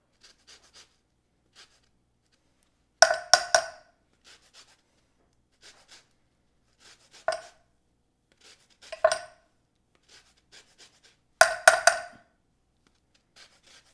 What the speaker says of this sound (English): Now I'm going to zest a lemon.